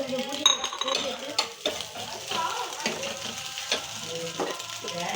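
Eggs frying in a pan with a spoon stirring and scraping against the metal, producing sizzling under frequent clinks and scrapes, fairly close; faint talk may be present.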